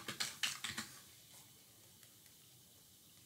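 A handful of quick, close keystrokes on a computer keyboard, clustered in the first second, then near silence with a faint tap or two.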